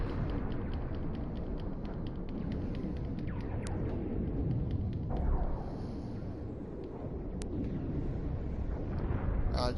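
Anti-proton weapons discharge during a Star Trek Online space battle on PS4, a dense, continuous rumbling roar of energy blasts and explosions with sharp zapping strikes breaking through now and then, loud and without voices.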